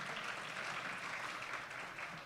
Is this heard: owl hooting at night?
no